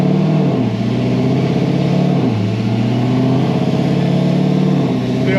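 Stage 4 Chevrolet Corvette C7 Z06 engine revving loud and close, rising in pitch, then dropping sharply as the automatic gearbox upshifts around two seconds in, with a second climb and shift near three and a half seconds.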